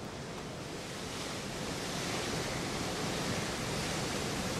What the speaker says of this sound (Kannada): ಕರಾವಳಿಯಲ್ಲಿ ಮಳೆಯ ಜೊತೆಗೆ ಸಮುದ್ರದ ಅಲೆಗಳ ಅಬ್ಬರವು ಕೂಡ ಜೋರಾಗಿರುವಂತದ್ದು